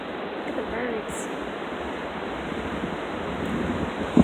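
Ocean surf rolls onto a beach in a continuous broad wash, steady and moderately loud, with wind buffeting the microphone and a brief bird-like call partway through.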